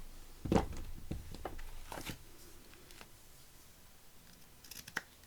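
Scissors cutting ribbon for a vintage Christmas craft, giving a few quiet close snips and crisp blade clicks with soft handling rustle between them, no talk.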